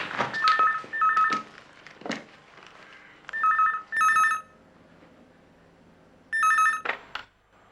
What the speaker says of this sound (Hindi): उसका फोन बजा।